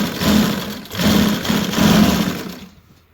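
A sewing machine runs in close, loud bursts while stitching along the edge of a baby boy's kurta fabric, its motor whirring in several short pulses before stopping near the end.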